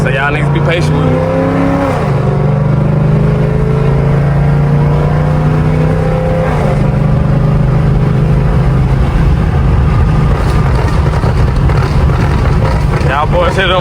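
A car's exhaust burbles and pops during a one-handed downshift while driving at speed, the steady engine drone loud and close throughout, with a voice talking over it.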